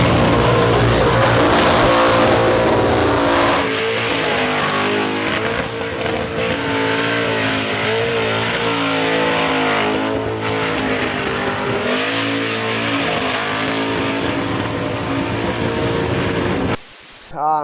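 A 702ci big block car doing a burnout, its loud engine roaring steadily near and close with tyre squeal throughout, then cutting off abruptly near the end.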